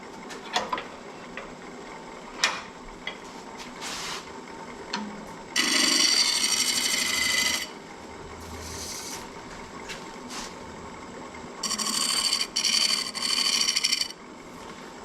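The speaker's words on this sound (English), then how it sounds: "And just a little scrapey scrape on that." A scraper works a myrtle wood bowl on a lathe, giving two loud, sustained bursts of harsh, close scraping, each about two seconds long, separated by quieter workshop noise with a few sharp knocks.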